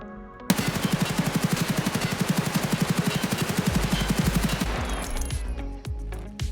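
A full magazine emptied in Escape From Tarkov: a long, rapid, steady automatic burst of loud close gunfire running for about four seconds, then stopping, with a few scattered clunks and mechanical clicks afterward.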